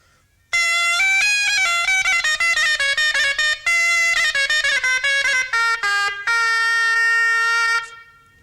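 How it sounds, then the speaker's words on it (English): A loud double-reed shawm with a metal lip disc plays alone, a piercing, brassy, nasal run of quick notes ending in a sustained tone, near and bright, starting after a brief silence. "As you can hear, the shawm was a pretty loud instrument,"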